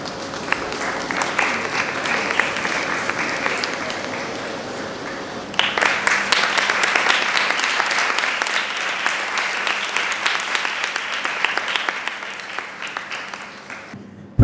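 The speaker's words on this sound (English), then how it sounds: "Another round of applause for them, please" An audience at a dance choreography panel applauds the artists with dense, sustained clapping that swells partway through and then holds steady before tapering slightly, loud and close, with no speech over it.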